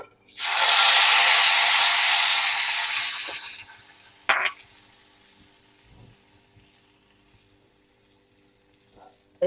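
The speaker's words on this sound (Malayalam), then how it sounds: "കടുക് അപ്പോൾ മൂത്തു മൂത്തു ഇതിനകത്തേക്ക് ഒഴിച്ചു കൊടുക്കാം" Mustard seeds tempered in hot oil are poured into mango kalan and burst into a loud hissing sizzle that fades over a few seconds, followed by a sharp clatter and then quiet.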